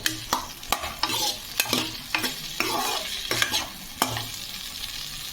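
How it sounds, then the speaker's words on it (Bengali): Mustard paste stirred in a hot frying pan, with repeated sharp scraping strokes of a spoon at an irregular rhythm over a steady low sizzle, close and fairly loud, no voices. "এক টেবিল চামচ সর্ষে বাটাটা দিয়ে দিলাম দিয়ে আমি এক মিনিটের মতো এর সাথে নাড়াচাড়া করে নেব"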